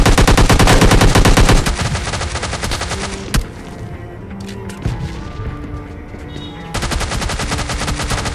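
Rapid automatic gunfire from S12K and AMK weapons in the Free Fire battle royale game, loud bursts of dense repeated shots at the start and end with sparser single shots and impacts in between.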